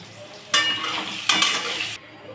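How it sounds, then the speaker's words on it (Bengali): Bursts of sizzling hiss as salted potatoes hit hot oil, with stirring scrapes and a steady crackle underneath, close by and fairly loud. "দিয়ে আলুটা একটু ভেজে তুলে নেব"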